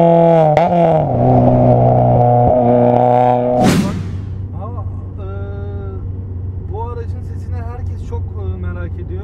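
A Honda Civic Type R EP3 with a K20 engine and a modified exhaust revs hard with a loud, rising howl. It then drops sharply back to a low, steady idle burble close by.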